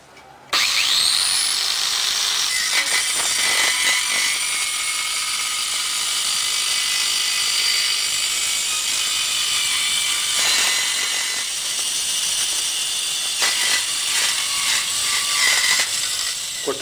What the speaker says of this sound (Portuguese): Iniciando o corte em aço inox.